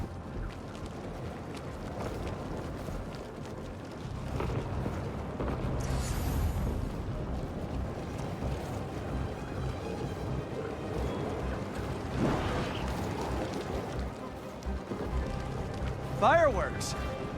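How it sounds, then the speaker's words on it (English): Fireworks burst in a New York street scene in the Spider-Man 2 video game, a run of muffled booms and crackles mixed into game ambience with people talking over them. "Fireworks. Probably without a permit."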